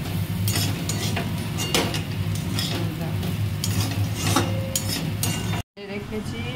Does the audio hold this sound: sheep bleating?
no